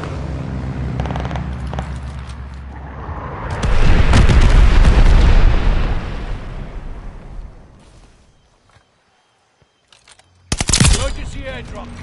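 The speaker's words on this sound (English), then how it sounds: "Allies called a bombing run." Modern Warfare 2 bombing run heavy with explosions: a long, loud rumbling blast sequence with rapid gunfire, fading to near silence, then a sharp burst of shots and booms close by.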